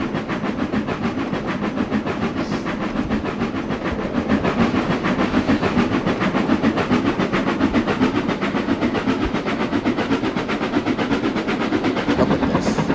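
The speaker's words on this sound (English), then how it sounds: "you can't just say no to a steam engine" Steady rhythmic chugging of an L1 British steam locomotive in the Trainz video game, with a clattering mechanical beat, loud and continuous throughout, no voices.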